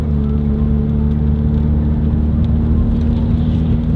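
A Subaru WRX with the FA20 engine holds a steady idle or low cruise, a close, constant drone with a low hum that never changes, and no talking.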